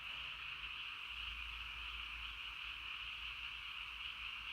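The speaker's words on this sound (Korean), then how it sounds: "개구리 우는 소리입니다." A dense chorus of frogs croaking continuously, a steady shimmering wall of calls at even, moderate loudness with low background rumble, no voices.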